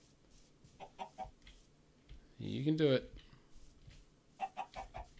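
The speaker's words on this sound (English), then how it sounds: "Come here, chicken." A Minecraft chicken clucks in a short, loud burst near the middle of the clip, with quieter clicking game sounds around it and a person talking briefly.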